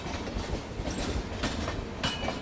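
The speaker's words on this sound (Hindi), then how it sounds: "वहाँ पे केरला एक्सप्रेस का अराइवल हो रहा है" The Kerala Express, a long Indian passenger train, rolls into Agra station with a steady rumble and rhythmic wheel clatter, heard from close by on a neighbouring train, with no speech.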